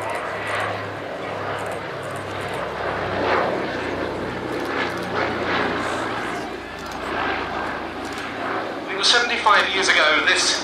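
A PBY-5A Catalina flying boat circling overhead at East Kirkby with its wingtip floats extending, its engines a steady, moderately loud drone throughout beneath continuous spoken commentary.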